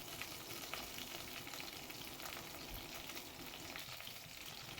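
Lemon rice ingredients fry in a pan, giving a faint, steady sizzle with light stirring textures throughout and no voices.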